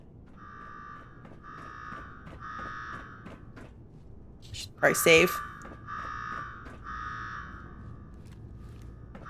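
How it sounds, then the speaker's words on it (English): In Fallout 4's Nuka World, an electronic alarm repeats in steady pulsing bursts of a buzzing tone, briefly broken by a short loud clatter. A voice speaks in the middle. "Now go shut off that damn alarm."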